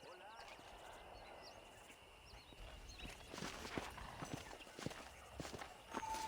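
Horse hooves clip-clopping steadily in Red Dead Redemption, a faint rhythmic trot growing slightly louder over ambient birdsong, with someone talking over it.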